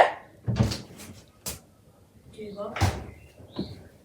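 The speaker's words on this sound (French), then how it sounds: "Il n'y a plus la porte coulissante, maintenant c'est la porte du placard que tu fais ça." Bathroom cupboard door at a holiday campsite rental being opened and closed repeatedly, several sharp knocks and soft wooden clunks in irregular succession, close by, with a little movement noise in between.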